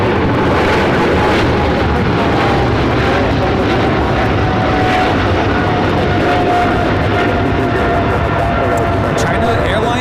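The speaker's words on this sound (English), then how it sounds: "China Airlines cargo taking off to Miami, Florida on the 777 freighter flight 5382." A China Airlines Boeing 777 freighter cargo jet takes off from LAX, its engines a loud, steady broadband roar with a thin whining tone, continuous throughout, while people talk over it.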